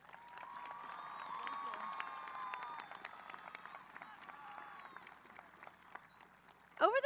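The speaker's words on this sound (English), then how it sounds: "please join me in giving them one more round of applause" A large crowd at a high school graduation ceremony applauds in sustained, distant clapping with scattered cheers, and a louder burst comes near the end.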